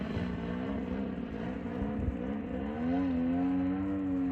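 A gas-powered RC 3D airplane's engine holds a steady high idle after landing, a continuous buzzing drone with a harmonic that rises slightly and steadies partway through, close and fairly loud.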